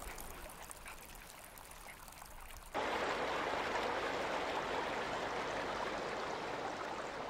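Water flowing in a stream in a rural landscape, a steady rushing wash that starts softer and swells suddenly closer and louder, continuing evenly to the end.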